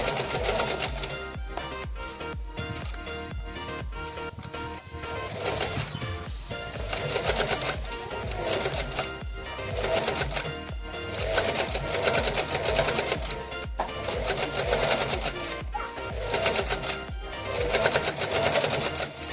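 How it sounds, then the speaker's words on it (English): A sewing machine whirs steadily as it stitches fabric, its rapid mechanical clatter running in bursts with brief slowdowns and faint background noise. "we're back at the sewing machine and we're going to make our first set of stitches"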